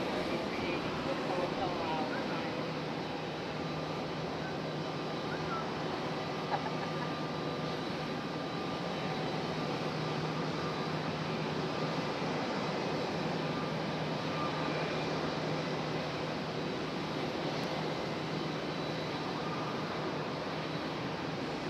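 An airliner arriving at Raleigh-Durham International Airport gives off a faint, steady engine drone that hangs evenly in the background throughout, with no sharp peak.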